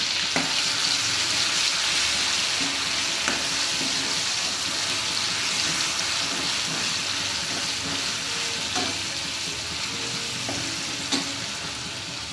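Bay leaf and garlic paste fry in hot oil for a chicken rassa, a steady loud sizzle that fills the whole stretch with an occasional faint clink from stirring.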